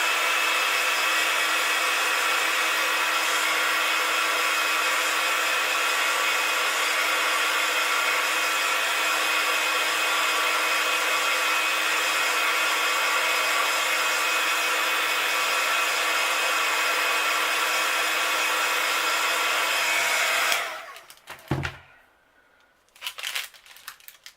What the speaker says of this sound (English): so another blasty with the heat gun